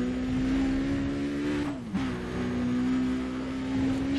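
A car engine in the racing game Need for Speed Undercover drones at a steady pitch, briefly dipping as if shifting or lifting off, then holding on again while cruising straight; loud and continuous, no talk.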